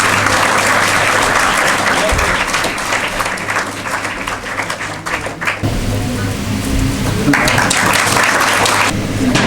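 An audience at a STEM lab inauguration ceremony at a Ramakrishna Mission school in Bhopal breaks into loud, dense, sustained applause that fills the room, briefly easing midway before swelling again, with a voice faintly audible beneath.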